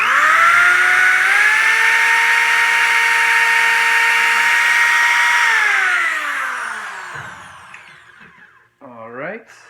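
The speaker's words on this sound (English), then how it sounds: "So I just ran a pilot hole through." A power drill whines loudly and steadily while boring a pilot hole for a brass screw in a 2x4 shoe rack, its pitch shifting slightly before spinning down, followed by a brief voice at the end.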